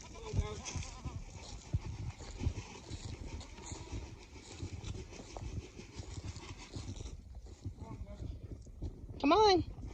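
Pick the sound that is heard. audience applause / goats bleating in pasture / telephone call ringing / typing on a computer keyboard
goats bleating in pasture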